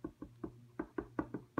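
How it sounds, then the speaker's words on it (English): A rubber stamp inked with Dapper Denim ink is pressed onto paper in a run of about eight sharp, close knocks and taps, irregularly spaced, with no talking. "So I'm going to stamp my beach chair"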